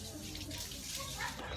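Water from a natural spring runs in a steady, continuous broadband rush, close and fairly loud, filling the whole moment without pause.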